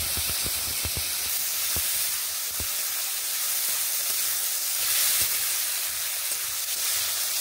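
Tomatoes dropping into hot oil with fried cardamom and cinnamon for a vegetarian banana flower dish, a loud, steady, close hiss of sizzling with a few light clicks early on.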